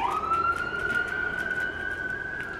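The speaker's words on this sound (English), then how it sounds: "oh, here comes an ambulance" Ambulance siren passing by outdoors, a single long rising wail that holds steady at a moderate distance, with faint rhythmic background clatter.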